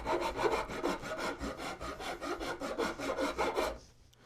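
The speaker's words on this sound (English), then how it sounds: "Now that I'm getting a little closer, I am going to use a finer tooth rasp." A finer tooth rasp is pushed along a wooden guitar neck to thickness it, producing a close, even series of about a dozen rhythmic rasping strokes before stopping.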